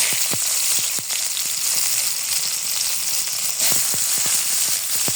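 Green chilies and onion drop into hot oil and fry, giving a loud, dense, continuous sizzle with scattered crackling pops and a brief surge of spitting around the midpoint.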